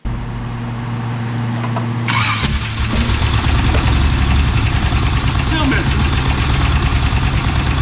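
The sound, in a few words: car engine starting and idling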